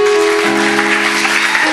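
Church congregation clapping together at a Christian gathering, a dense continuous wash of applause with a sustained musical tone running underneath, steady and fairly loud throughout.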